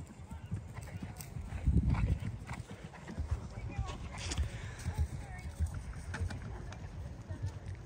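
Several horses' hooves clip-clop on the ground at an eventing competition, an irregular series of fairly close thuds under steady outdoor noise, with people talking.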